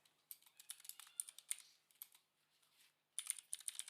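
Rapid keystrokes on a computer keyboard as Apex trigger code is entered, coming in quick bursts with short pauses, close and fairly quiet, with no voices.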